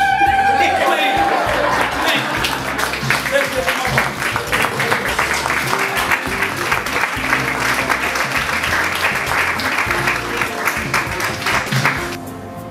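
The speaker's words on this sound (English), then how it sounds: "Applause." Warm audience applause at a Zambian women's success event, steady dense clapping mixed with some cheering and chatter, loud and sustained for most of the stretch before trailing off at the end.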